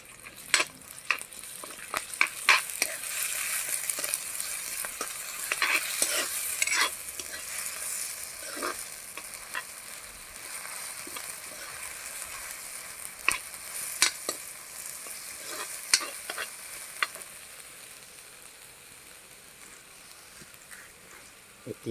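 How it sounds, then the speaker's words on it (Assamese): Chicken frying in a pan while being stirred gives a steady soft sizzle broken by repeated sharp scrapes and clicks of the spatula against the pan, close by and without talk. "লৰাই দিওঁ অলপ"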